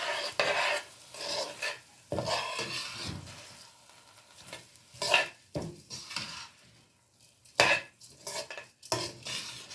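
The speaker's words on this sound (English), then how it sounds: "So we're going to let the rice get a little bit toasted in there." Rice toasting in oil in a pot for Puerto Rican arroz con gandules, with repeated scraping and stirring against the pot, clinks of a utensil and a faint sizzle underneath, steady and close.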